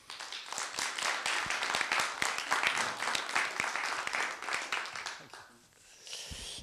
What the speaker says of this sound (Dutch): Dus Kees Verhoeven, geef hem een applaus.